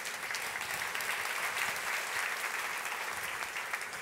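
Steady applause from a group, a dense continuous patter of clapping that holds at an even level throughout.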